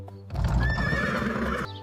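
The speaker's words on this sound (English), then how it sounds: "The horse says neigh." A horse gives a single loud, close whinny lasting over a second, a high quavering neigh over breathy rumbling, with no talking.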